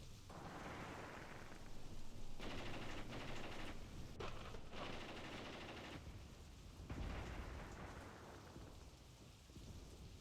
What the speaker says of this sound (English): you can hear them firing